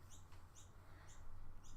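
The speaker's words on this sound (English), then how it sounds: "there's a bird that just won't stop incessantly chirping," A small bird chirps repeatedly outdoors, four short high double notes at a steady pace, faint and somewhat distant over low background hum.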